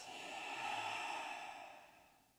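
A long, breathy sighing exhale during guided breathwork, swelling and then fading over about two seconds, close and soft with no talking.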